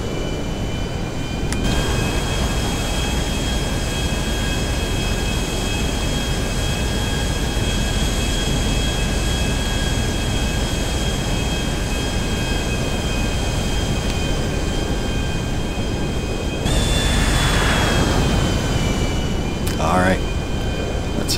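A plane in GTA 5 Online takes off down the runway at Fort Zancudo, a loud continuous engine roar with a rising whine near the end as it climbs.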